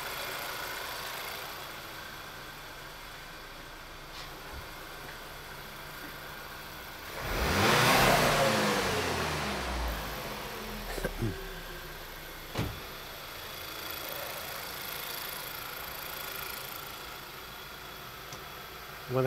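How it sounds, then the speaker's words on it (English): Car engine during a wideband lambda test: a steady low idle, then a brief rev that swells and falls away, and a few sharp clicks afterwards, close and moderately loud, with no talk. "So let's just do an ordinary acceleration event and see what happens."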